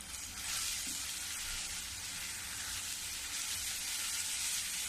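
Spices are stirred into a bottle gourd and yogurt curry in a pan, giving a steady close sizzle and fry with faint scraping throughout, and no one speaking.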